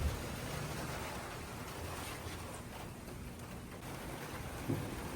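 Steady rain falls, a soft continuous patter on surfaces with a faint low rumble, no voices.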